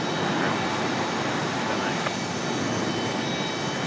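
Frontier jet airliner taking off from Raleigh-Durham airport, a steady broadband roar that fills the whole clip, close and loud with no change in level, while a voice talks over it.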